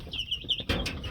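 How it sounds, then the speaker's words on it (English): Five-day-old broiler chicks chirp in a high, continuous chorus of peeping, fairly close, with a brief burst of scuffling or wing flapping near the end. "These are 5 days old broilers."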